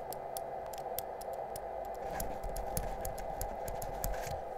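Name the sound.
loose battery rattling in a device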